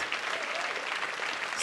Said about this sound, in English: can we have a big round of rousing applause